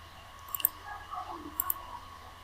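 A computer mouse clicks in two quick pairs, faint and close, with soft background murmur between them.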